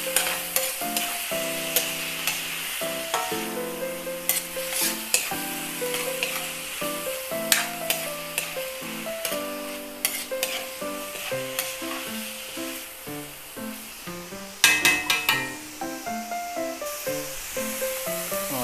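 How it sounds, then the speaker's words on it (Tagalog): Pork with young corn and mushrooms stir-frying in a pan, a loud close sizzle under repeated scraping and clinking of a utensil as the food is stirred, with a sharper burst near the end. "Haluin ulit."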